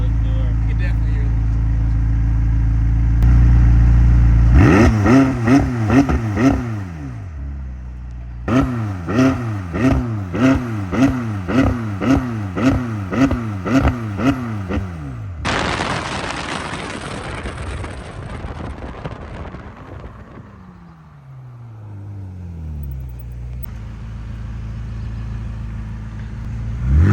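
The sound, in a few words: McLaren 600LT engine revving with turbos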